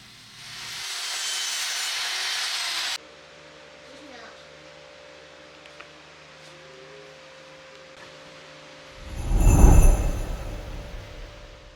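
A sound effect of a miter saw cutting wood gives a harsh rasping burst of about two seconds, then a quiet stretch and a louder low rumbling surge near the end.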